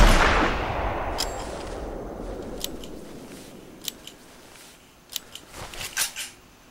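A hunting rifle is reloaded in the game Hunter Classic: a loud opening report fades into a wash of reverb, followed by scattered sharp metallic clicks and clacks of the action, growing busier near the end.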